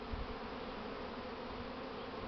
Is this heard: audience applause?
no